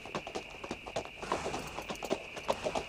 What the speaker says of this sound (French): après, on est parti à cheval vers la ville de Georges